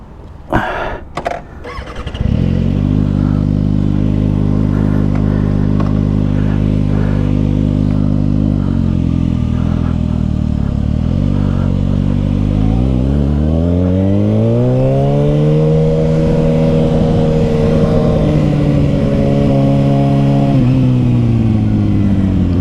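A 2021 Kawasaki Ninja ZX6R motorcycle with an M4 Street Slayer slip-on exhaust starts with a few clatters, then idles loudly and revs up with a rising, throaty engine note, close and steady throughout.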